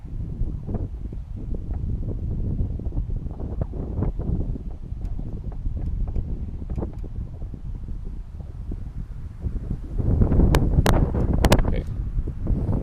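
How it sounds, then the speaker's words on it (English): Steady wind buffets the microphone outdoors during a plein air pastel painting session, a constant rough roar that swells into a stronger gust near the end. "I put pastel to paper, another wind gust."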